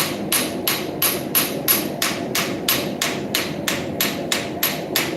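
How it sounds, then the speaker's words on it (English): Hammers strike railroad spike steel in a steady, evenly spaced series of about fourteen sharp metallic blows, close and clear, with no talking. "I'm just using the hammers to show what can be done."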